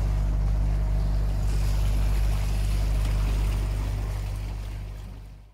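An outboard motorboat engine drones loud and steady while cruising on Lake Champlain, with a deep rumble, hull and water wash, and wind hiss, cutting off abruptly at the end.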